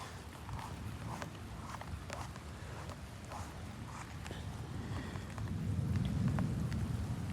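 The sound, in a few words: rain falling during thunderstorm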